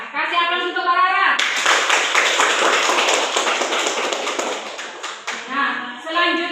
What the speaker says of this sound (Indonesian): Kasih aplaus untuk Rara.